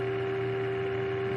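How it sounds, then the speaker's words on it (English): A steady telephone dial tone in the game Oxenfree, a single continuous pitched hum held unbroken and fairly loud throughout, with no voices. "There's a dial tone"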